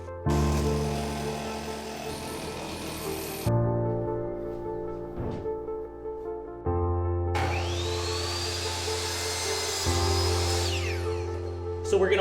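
A power tool trims the edge off a 4x8 wood wall panel, running in separate whirring bursts with abrupt starts and stops and a long rising, falling whine in the middle.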